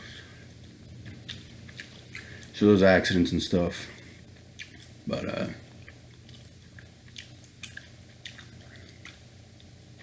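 Gum is chewed close to the microphone in soft-spoken ASMR style, with a few wet, squishy bursts of chewing. Quiet talking runs underneath and between them.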